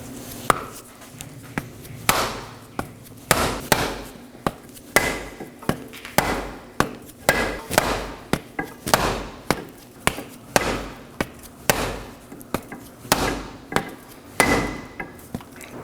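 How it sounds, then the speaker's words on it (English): A rubber mallet drives a CV axle into the rear differential of a 2018-2024 Chevrolet Equinox, giving a long series of sharp, close knocks in an uneven rhythm, with no talking. "I'm going to be hitting the other side with a rubber mallet to ensure that snap ring fully locks in the differential"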